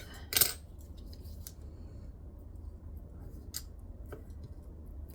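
Scissors trim fabric for sewing, a sharp close snip at the start followed by a few softer cuts over a steady low hum.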